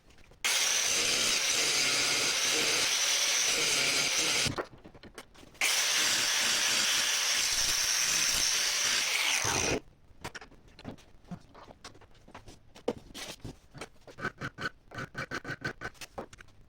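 A carbide wood turning tool is ground to shape, first with an angle grinder, then a bench grinder: two long, loud, steady grinding bursts with a short break between, followed by scattered clanks and handling taps with no talk.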